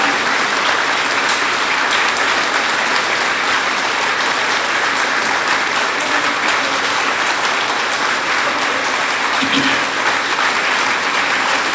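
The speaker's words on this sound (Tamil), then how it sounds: "வேர்ல்டு பிராமின் அசோசியேஷன் சார்பா மோடிக்கு ஒரு நிமிஷம் இடைவிடாது கைத்தட்டு கொடுங்க" Large crowd at a World Brahmin Association event applauding nonstop for Modi, a dense unbroken roar of clapping that stays loud and even throughout with no clear talk.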